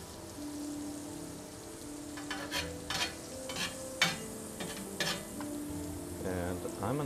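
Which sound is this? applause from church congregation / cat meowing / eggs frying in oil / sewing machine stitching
eggs frying in oil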